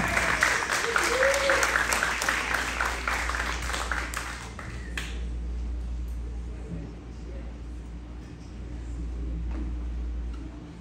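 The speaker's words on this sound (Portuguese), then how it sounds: "Uma salva de palmas." Audience applause welcoming a singer onstage at a live show, dense clapping for about five seconds that then fades into a low room hum and murmur.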